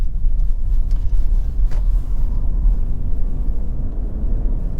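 A 2013 Honda CR-V 2.0 i-VTEC EX 4WD driven at speed gives a steady low road rumble with wind noise, heard from inside the cabin, fairly loud and constant with no talk.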